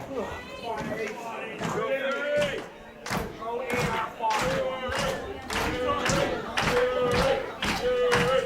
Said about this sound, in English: I feel like these cheers are for both men at this point